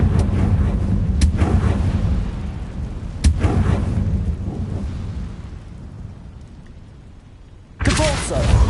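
A Confringo fire spell exploding in Hogwarts Legacy: loud, booming blasts with sharp cracks and a rolling fiery roar that fades, then another sudden burst erupts at the end.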